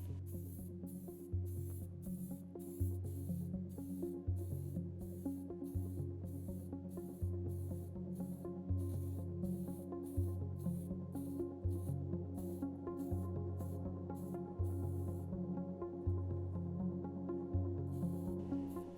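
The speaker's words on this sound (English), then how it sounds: "I'm spraying on 2 thin coats of primer shortly one after another" A spray can applies thin coats of primer to model parts in quiet, repeated short hissing bursts with brief pauses between them.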